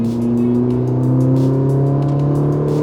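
Ferrari 458 Italia with its naturally aspirated V8, a steady loud drone holding near-constant pitch throughout, close and alone with no voices.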